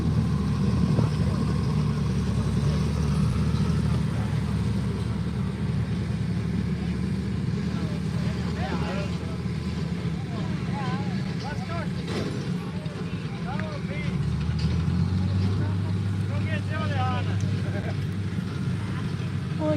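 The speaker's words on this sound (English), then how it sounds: "Here's one of the tractors that we'll be pulling on later on." A garden pulling tractor with a big exhaust pipe idles at an outdoor benefit tractor pull in Ohio, a steady low engine rumble with people talking nearby.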